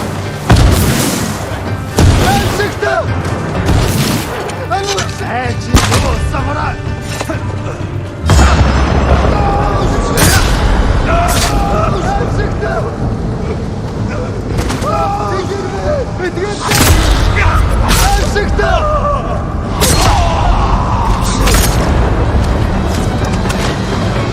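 Repeated heavy booms and blasts in the samurai action game Ghost of Tsushima, with several deep explosions spread across the stretch and people talking in between.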